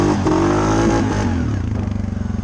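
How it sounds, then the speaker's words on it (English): A Suzuki KingQuad 750 ATV engine revs hard and loud up close, its pitch climbing and then stuttering in a rapid pulsing bounce against the rev limiter at the end. "I didn't even get above quarter throttle and it bumped the rev limiter right there"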